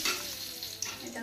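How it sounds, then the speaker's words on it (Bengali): Dried red chillies and a bay leaf spit into hot oil for a Bengali khichuri tempering, making a short, dense, close sizzle with a small pop near the end. "এখন আমি ফোড়ন দিয়ে দিই। শুকনো লঙ্কা দিয়ে দিচ্ছি, তেজপাতা দিয়ে দিলাম"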